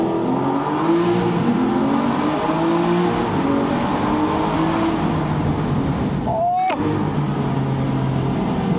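Aston Martin V12 Vantage S engine droning loud and steady, with harmonic sweeps rising and falling as revs change and a brief sharp transient near the end; voices talk faintly underneath.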